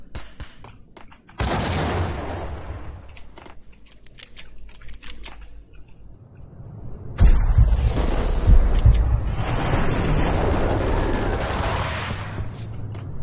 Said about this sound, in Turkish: Bomba atacaklar buraya.